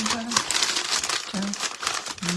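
A paper lunch bag being crumpled and turned by hand for a paper rose craft, giving continuous crisp crinkling and rustling up close, with someone talking over it.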